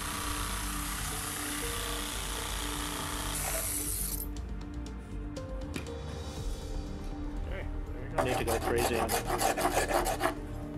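A jigsaw whines and rasps through Lexan sheet, with a harsh buzzing cut, then a rapid chattering burst of sawing near the end.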